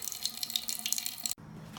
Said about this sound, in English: just leave it draining, because it's gonna empty out the water heater also